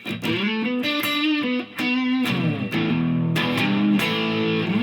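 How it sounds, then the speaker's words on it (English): An electric guitar plays sustained, heavily distorted notes and chords drenched in reverb, loud and upfront, each note ringing out. "You're hearing all that reverb, that distortion."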